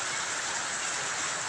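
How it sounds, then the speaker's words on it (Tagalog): Heavy rain pours in a steady, dense hiss, heard from a waiting shed, filling the whole moment, close and loud, with no voices heard. "Lakas ng ulan"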